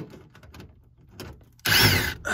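A power tool backs screws out of a central air conditioner's blower panel; quiet handling noises give way to a loud, steady whir near the end.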